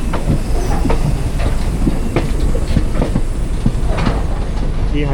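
Steady rumble and rhythmic clickety-clack of wheels inside an ICF 3-tier sleeper coach on the Hyderabad–Kollam special train, loud and continuous with a hiss of moving air throughout.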